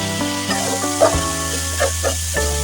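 Onion, ginger and garlic pastes sizzle steadily in a hot pan for prawn malai curry, with a few louder spatters and stirring scrapes over a constant frying hiss.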